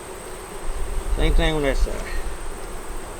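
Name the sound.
bees buzzing on a hive frame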